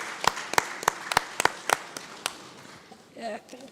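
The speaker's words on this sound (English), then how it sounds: "So please clap for yourselves." A few people clap in sparse, uneven strikes at a safe motherhood breakout session, the claps thinning out over a couple of seconds before a voice speaks briefly at the end.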